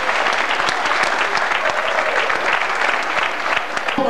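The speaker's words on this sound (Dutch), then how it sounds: "En ik heb extra gewacht dat hij de extra was." Crowd at a sports club's 75th anniversary gives a loud, sustained round of applause for Martin and his horse, many hands clapping close and evenly throughout.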